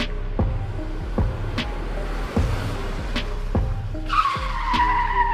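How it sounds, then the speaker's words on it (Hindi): A car pulls up and parks in an animated horror comedy, with a run of sharp, repeated skid and tire noises at moderate loudness and a higher squealing tone rising near the end, with no voices. "फिर वो तीनों उसी फैक्ट्री के सामने अपनी गाड़ी को पार्क कर दी।"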